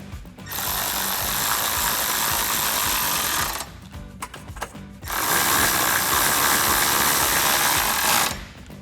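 Tightening bolts with a 10mm socket while installing side step bars on a Tacoma: two long continuous mechanical whirring runs with a brief clattery pause between, close and loud, no talk.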